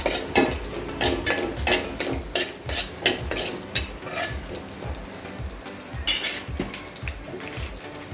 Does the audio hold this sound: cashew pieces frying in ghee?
yes